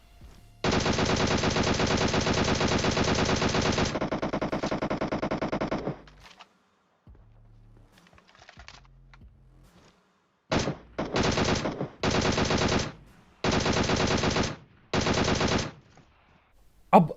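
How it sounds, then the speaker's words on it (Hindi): Automatic weapon fire in the mobile battle-royale game PUBG Mobile: a long sustained burst, a short pause, then several rapid bursts in quick succession, loud and close. "गोली तो ये वैसे भी चला ही रहे थे अभी भी।"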